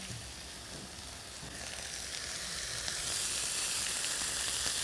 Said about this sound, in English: We're gonna throw this right on the grill pan